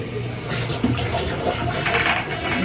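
Water runs steadily and splashes in a home kitchen while plates and bowls are washed, a continuous rushing wash with small clinks, fairly loud and close.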